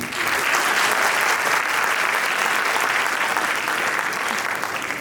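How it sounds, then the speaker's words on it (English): Loud, continuous applause from girls in the audience at a motivational speech in Gondia, Maharashtra, a thick steady wash of clapping lasting the whole span without pause. "Now it's a turn of clapping by girls."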